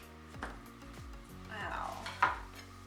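A knife cutting through freshly baked gluten-free keto bagels: several close, soft thudding strokes against a board in a quiet kitchen, with a brief scraping rasp near the end.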